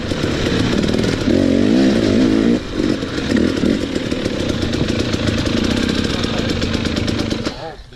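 Dirt bike engine fitted with an aftermarket carburetor, a SmartCarb or Lectron, revving and buzzing steadily up close, with voices talking over it.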